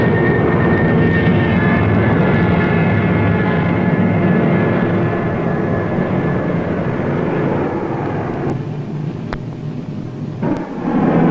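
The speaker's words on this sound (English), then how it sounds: "3 British planes attacked before Prien could submerge." Three British warplanes diving on the surfacing German submarine U-47, a loud rushing roar of aircraft engines mixed with booming blasts, with sharp crackling bursts near the end.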